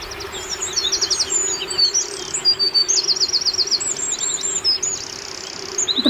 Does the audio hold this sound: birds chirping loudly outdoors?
yes